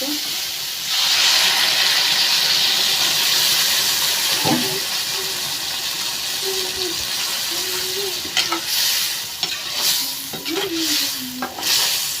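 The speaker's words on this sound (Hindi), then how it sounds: "गैस में मसाला भुजा गया है, तो इसमें डाल देती हूँ पानी।" Masala sizzling in a pan on a gas stove in a village kitchen after water is poured in, a loud, continuous hiss and steam with intermittent scraping stir sounds.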